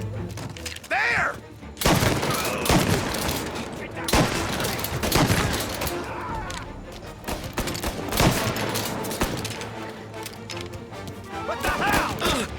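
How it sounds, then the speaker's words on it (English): Gunfire in the Mafia I: Definitive Edition video game, with bursts of rapid shots and sharp impacts crackling across a busy scene, mixed with shouting voices and other game effects. "Reports of gunshots."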